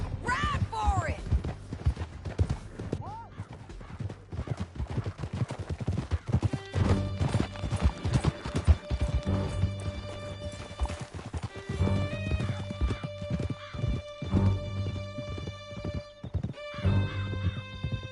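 Horses gallop with steady clip-clop hoofbeats in Red Dead Redemption 2 during an escape from a canyon, with whinnies near the start and tonal game music entering partway through.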